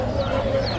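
Chickens cluck amid the bustle of a Friday bird and animal market, with a steady crowd murmur beneath and voices talking nearby.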